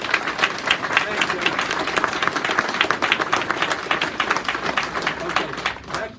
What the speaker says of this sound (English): that clapping started from these people over here